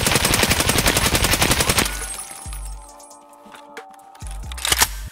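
Video game weapon fired from a standing stance without recoil control: a dense, rapid burst of automatic gunfire for about two seconds, then a few sharp single shots with echoing tails, loud and close, no talking.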